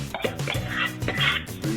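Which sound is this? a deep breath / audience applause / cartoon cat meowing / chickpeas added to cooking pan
chickpeas added to cooking pan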